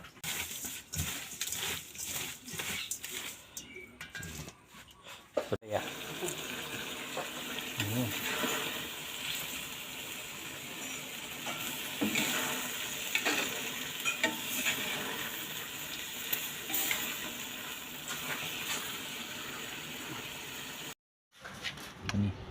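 Spicy eel from the Chi River stir-fried in a pan, with loud, close sizzling and busy scraping and clattering of a utensil that continues throughout. Faint voices can be heard in the first few seconds.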